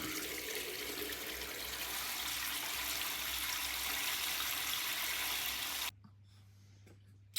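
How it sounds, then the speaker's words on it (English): Water drains slowly from a sink during a plumbing survey: a steady, loud rush of flowing water for about six seconds, then it stops abruptly, leaving only a faint low hum. "A bit slow on the drainage side, but it does drain."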